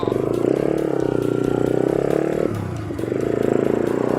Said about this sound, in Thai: ผมจะพาไปลองรถกันนะครับ โซนิคเครื่อง CBR นะครับ